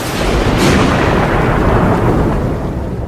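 Thunder rumbling through a storm over a dense, dark forest, a loud, sustained broadband roll with a sharper crack near the start, heard alone without voices.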